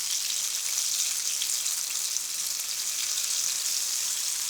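Steady, dense sizzling and crackling of fish pakora deep frying in hot rapeseed oil, continuous and close throughout with no talking.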